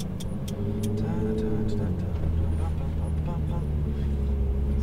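A Ferrari 458 Italia pulls away on a course marked with cones under light throttle, its engine a steady low drone close by, with a person talking over it.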